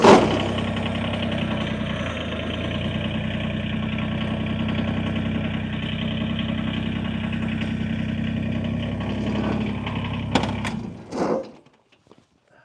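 Tractor engine running steadily at a low, droning idle-like rumble for about ten seconds, close and loud, then a clunk and the engine dying away to silence near the end.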